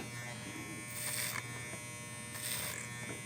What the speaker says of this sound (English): I'm going to take my clipper over comb, and you can see me taking this a little bit shorter